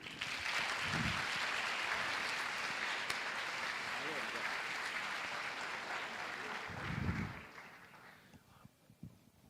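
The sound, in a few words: audience applause at a literary event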